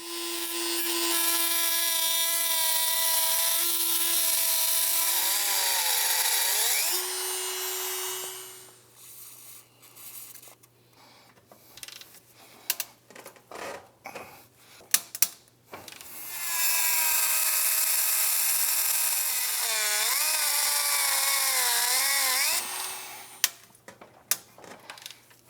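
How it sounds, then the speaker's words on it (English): A Dremel rotary tool cuts a relief into parts during a Honda TRX400EX ATV teardown, a loud high whine in two long bursts with pitch wavering under load, separated by quieter clattering and handling noises. "All right, let's get out a Dremel."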